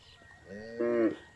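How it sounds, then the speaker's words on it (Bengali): A cow on a river char along the Dholai river gives a single fairly close moo, rising into a full-throated low call and then cutting off against a quiet outdoor background. "এই যে গরু দৌড় পারতেছে"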